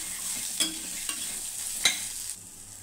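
Peanuts frying in a pan as they are stirred, giving a continuous bright sizzle with a few sharp scraping clicks of the spoon spread across the clip, close and without talk.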